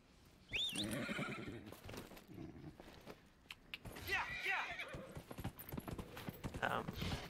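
A horse whinnies loudly in the video game Dragon Age: Inquisition while hooves clip-clop steadily on hard ground, with a second neigh midway and clattering movement throughout.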